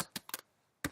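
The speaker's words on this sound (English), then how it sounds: "I'm typing some caps and some small" Close keystrokes on a computer keyboard, four crisp clicks in an uneven rhythm with a short pause before the last, quiet and alone without talk.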